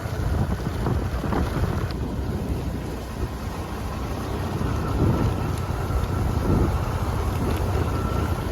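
Steady rain and wind roar during a motorcycle ride on a dark road in Nepal, a constant broadband wash with low rumble and no speech.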